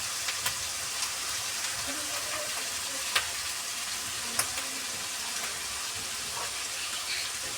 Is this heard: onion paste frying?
yes